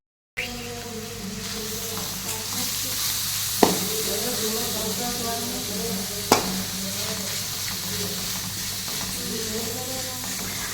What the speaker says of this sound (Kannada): ನಂತರ ವೆಜ್ಜೀಸ್ ಹಾಕಿಬಿಟ್ಟು ಫ್ರೈ ಮಾಡೋಣ